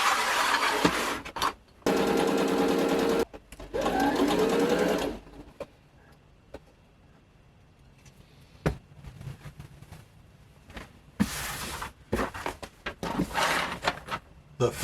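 A sewing machine stitches a vest lining in quick loud runs, the motor rattling in two bursts early on, then pausing amid scattered clicks and fabric handling before starting up again in shorter runs near the end.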